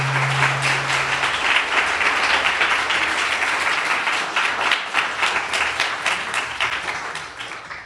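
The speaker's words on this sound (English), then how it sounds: "Applause for David Sider." Applause from an audience at an evening public talk, a broad roar of clapping that thins into fewer, more distinct claps as it tapers off toward the end.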